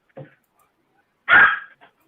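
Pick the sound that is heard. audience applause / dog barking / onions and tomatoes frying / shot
dog barking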